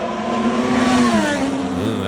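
A Formula 1 car, likely the Aston Martin with its Honda engine, passes on track: a loud high-pitched engine whine that rises and then drops in pitch as it goes by, close and steady.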